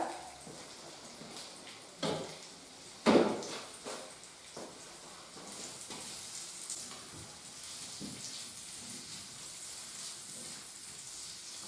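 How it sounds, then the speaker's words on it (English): Onions sizzle steadily in a frying pan, a soft continuous crackle punctuated by a few clinks and scrapes of stirring. "hear the onions sizzling away, so I'm going to add the pepper"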